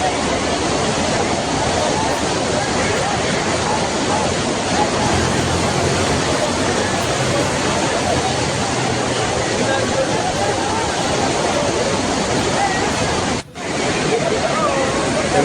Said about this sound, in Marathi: आणि पाणी खूप वेगाने धावत होतं.